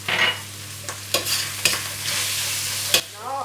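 Double cooked pork stirred in a wok with fermented bean paste and sugar: a constant sizzle broken by four or five sharp scraping spatula strokes, close up and with no talking.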